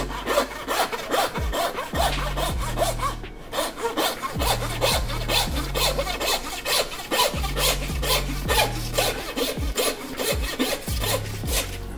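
A handsaw cuts through a lamb carcass in steady back-and-forth strokes, each pass a rasping, gritty scrape with low thuds, repeating in a regular rhythm close by.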